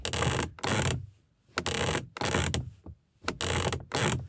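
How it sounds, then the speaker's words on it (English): BMW Z4 door card squeaks and creaks under gentle knee pressure in three long pressing bursts with quiet gaps between, close up and fairly loud. "all I'm doing is gently my knees touching the door card"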